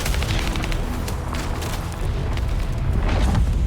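Launcher explosions in The First Descendant, fired rapidly in frenzied mode, make a dense, continuous run of loud booming blasts with no pause across the stretch.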